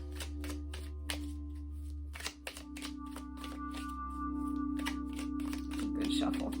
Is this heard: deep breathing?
no